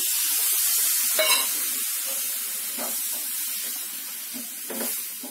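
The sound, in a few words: tamarind juice poured into sizzling pan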